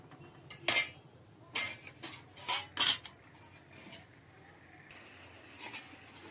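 Metal lid set onto a pot of Bengali chicken curry, a handful of bright clinks and clanks in quick succession, close, then a softer rattle and quiet stirring noise.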